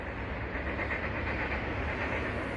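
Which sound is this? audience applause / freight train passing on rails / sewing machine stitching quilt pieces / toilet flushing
freight train passing on rails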